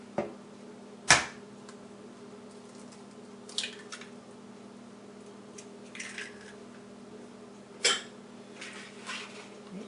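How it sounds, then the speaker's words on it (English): Fresh farm eggs and store-bought eggs cracked open one at a time: a few sharp, brief shell cracks spaced several seconds apart over a quiet steady hum, close and fairly soft. "Let's crack these bad boys and see what those yolks look like."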